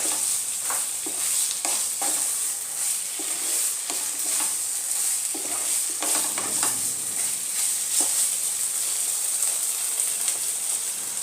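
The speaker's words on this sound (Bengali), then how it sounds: "এবার আমি এর মধ্যে অল্প করে একটু জল দিয়ে দেব।" Chicken frying in a pan on a high flame, with a little water just added, gives off a loud, steady sizzle and hiss, broken by repeated scraping stirs.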